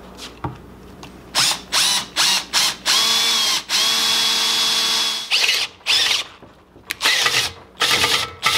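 A power drill bores a hole for a car dash mount, whirring in short bursts with one longer steady run in the middle, close and clear, with no talking.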